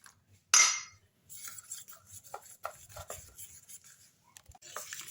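A utensil whisks gram flour batter with a little water, salt and turmeric, giving quiet irregular scraping and tapping strokes against the bowl, close by, after a brief loud clatter.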